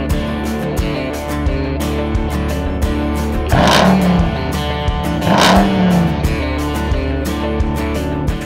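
A 2021 Ram 1500 TRX truck with launch control accelerates hard, a loud continuous engine roar heard from inside with two distinct surges as it climbs through gears.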